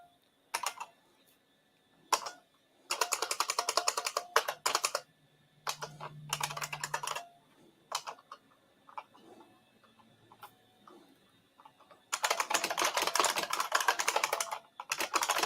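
Rapid bursts of clacky typing on an IBM Model M buckling-spring keyboard, with each key individually close-miked, come in several loud runs separated by pauses and a few isolated keystrokes, with no talk.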